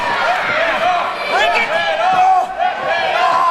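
A wrestling arena crowd roars and cheers continuously during an old-school bout, loud and dense, with a commentator talking over the noise.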